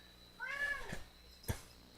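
A voice imitating a cat for a character named Armand, shapeshifted into a cat during a Dungeons & Dragons game, gives a soft, drawn-out mournful meow followed by a short, sharp sound a moment later.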